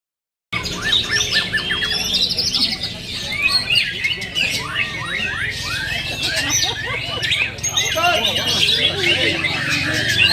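A white-rumped shama (murai batu), kept as a contest songbird, sings a dense run of varied whistles, trills and sharp chirps, loud and close and almost continuous, with someone talking underneath.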